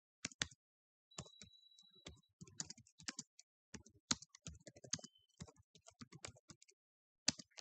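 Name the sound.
computer mouse clicking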